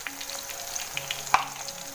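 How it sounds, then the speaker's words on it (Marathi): Snacks deep-fry in oil in a kadhai, giving a close, soft, steady sizzle dotted with small crackles and pops. "आता हे बघा हे कढईमध्ये सोडलेले आहेत"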